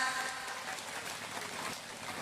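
Applause from the audience at a Ramadan Islamic study gathering, a dense, steady patter of clapping that fills the whole clip at an even level.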